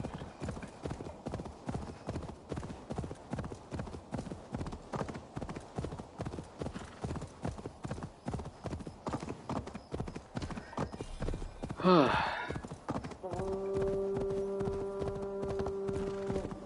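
Horse hooves clip-clop in a steady galloping rhythm through most of the stretch in Assassin's Creed Valhalla, followed by a loud whinny near the end, then game music with sustained tones takes over.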